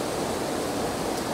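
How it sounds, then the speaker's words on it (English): Two small waterfalls cascading, a steady, dense rush of falling water heard close and unbroken, with no other sounds. "So, as you can see, we've got two little waterfalls,"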